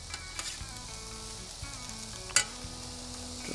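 Steak flipped onto a charcoal grill, sizzling in a continuous crackling hiss with a sharp spike as the meat lands on the grate.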